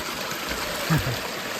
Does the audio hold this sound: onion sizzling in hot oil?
no